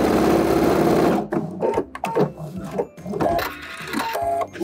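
Sewing machine stitching a seam on a vintage leather coat, a steady mechanical whir up front that drops out after about a second into short stop-start bursts of stitching and handling.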